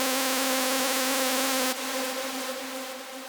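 A hardstyle lead synth built from a saw wave with eight voices holds a bright, buzzy sustained tone, loud and steady with stacked harmonics, shifting slightly in brightness partway through, with no voices.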